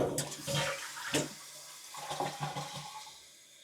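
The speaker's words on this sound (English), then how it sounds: "Here's another way you can check it to see if it's pumping water, is to flush it again." A household toilet being repaired for running-water and fill problems flushes, with a loud close gush and swirl followed by quieter gurgling as the tank begins refilling, fading toward the end.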